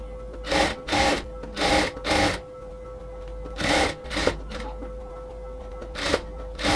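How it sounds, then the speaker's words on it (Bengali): A sewing machine stitching the sleeve of a nightie runs in short bursts of whirring stitches with brief pauses between, close and fairly loud, no voices. "তার জন্য ওভাবে ধরে তারপর হচ্ছে সেলাইটা স্টার্ট করব"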